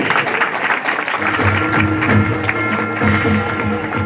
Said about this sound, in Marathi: सर्वांनी जोरात टाळ्या वाजवायच्या